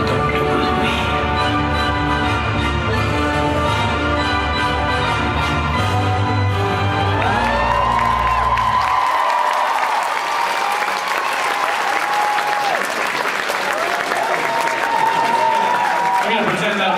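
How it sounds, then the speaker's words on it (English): A large fan expo crowd cheers and applauds in a packed hall, a broad roar of clapping that swells as music with a sung line fades out, with shouts and voices mixed into the noise. "I'm gonna pretend that applause was for us, because it feels real good"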